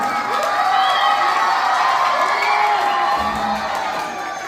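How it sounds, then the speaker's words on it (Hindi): A crowd claps and cheers loudly and continuously, with whoops and shouts rising over steady applause. "जोरदार तालियों के साथ स्वागत।"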